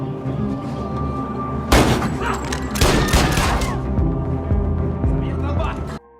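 A rapid burst of gunfire and heavy thuds from a movie shootout breaks out over a droning background, continuing loudly for several seconds before cutting off.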